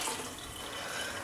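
Tap water runs steadily for making tea, an even, continuous hiss and splash at moderate level with no talking.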